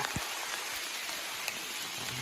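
Heavy rain pours during a storm in a forest, a steady dense hiss of drops on surfaces with a few louder close splats and no voices.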